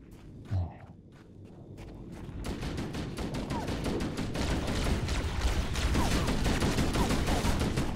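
Rapid automatic gunfire from an assault rifle in the Halo: Combat Evolved shooter, a dense, continuous rattle of shots with battle noise, building from a quieter opening into sustained loud firing.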